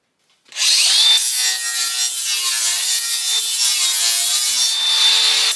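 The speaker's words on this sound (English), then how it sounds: "I'll grab the regular grinder and clean off all this debris with the flap disc." An angle grinder with a flap disc cleaning debris off a welding table: the motor spins up to a high, steady whine with rough abrasive grinding, loud and close, with no talking.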